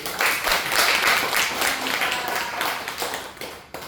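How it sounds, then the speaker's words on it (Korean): Welcoming applause from a church Sabbath school congregation, a loud, sustained round of many people clapping nearby that eases off slightly toward the end. "우선 뜨거운 환영의 박수로"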